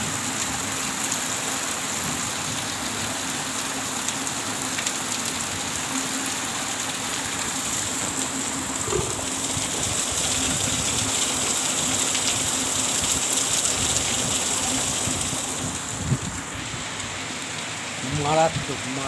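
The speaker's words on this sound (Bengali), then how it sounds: "ফাটিয়ে বৃষ্টি হচ্ছে" Heavy rain falls outside a window in a steady, dense downpour that goes on unbroken and close, with a voice speaking faintly now and then beneath the roar.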